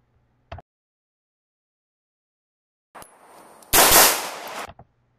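Carbine gunfire during a shooting-and-moving drill: one sharp lone shot, a pause, then a dense, loud string of rapid shots lasting under two seconds, with no talking.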